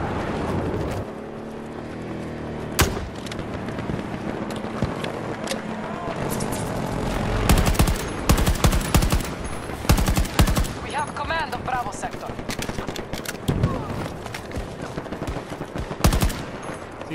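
Rapid bursts of gunfire and heavy explosive shots from a grenade launcher in the video game Battlefield 2042, loud and repeated in clusters with sharp blasts over continuous battle noise.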